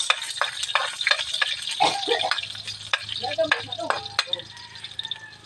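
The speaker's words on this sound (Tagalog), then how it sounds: "init ng kaha mga boss ato ning butangan og ahos" Garlic frying in a hot pan for a home supper, a steady close sizzle with spatters and scraping strokes, a voice speaking over it at points.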